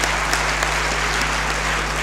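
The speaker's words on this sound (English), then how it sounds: "I want us to clap for all of them" An audience claps together at an alumni lecture, a brief, steady wash of applause heard at moderate distance with no voices over it.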